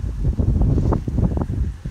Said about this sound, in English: it's a nice bright Saturday morning, windy